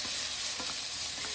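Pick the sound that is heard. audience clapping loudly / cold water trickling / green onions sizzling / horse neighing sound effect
green onions sizzling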